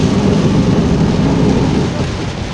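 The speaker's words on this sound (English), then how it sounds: "This is a severe thunderstorm, alright." Heavy rain and rumbling thunder of a severe July storm heard while driving, a loud, continuous wash of downpour with deep low rumble that eases slightly toward the end.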